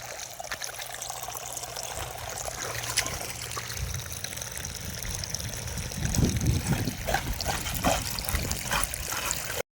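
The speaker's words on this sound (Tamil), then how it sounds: "செம்மையாக வந்துருக்கு தண்ணி பாருங்களேன் சூப்பராக வந்துட்டுருக்கு" Water draining and trickling out of a small pond during a fishing outing, a steady close rushing flow that grows fuller and louder partway through, with no talk over it.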